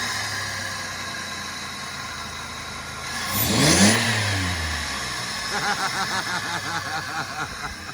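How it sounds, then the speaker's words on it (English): A 1999 Chrysler Grand Voyager fitted with a new cold air intake idles steadily, then swells into one brief rev before dropping back to a pulsing idle, close by with no talking. "Give her just a little bit of gas, baby."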